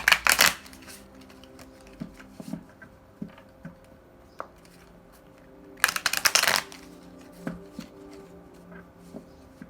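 Tarot cards are shuffled in two quick riffling bursts, one at the start and one midway, with soft taps and card handling in between.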